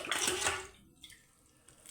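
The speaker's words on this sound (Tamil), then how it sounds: "எல்லாமே கரெக்டாக தண்ணி ஊற்றிக்கலாங்க" Water poured into a pressure cooker while making mushroom biryani, a brief rushing splash that stops after under a second, followed by quiet clinks and faint room noise.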